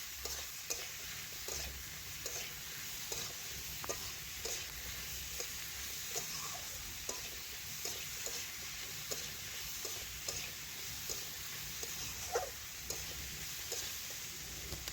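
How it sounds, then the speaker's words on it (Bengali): Spices (turmeric, salt, chilli powder, bay leaf) being stirred into ridge gourd frying in a pan: a soft continuous sizzle with regular scraping strokes of the spatula, close and fairly quiet. "এখন ভালোভাবে নাড়াচাড়া করে মিশিয়ে নেব ঝিঙের সাথে"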